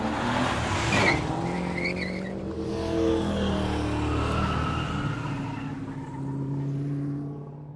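Race cars skid and roar during a race, a sustained loud mix of engine noise and tire squeal with a sharp peak near the start and a continuous wash of motor sound throughout.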